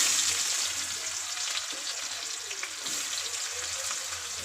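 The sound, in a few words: onions frying in hot oil in a wok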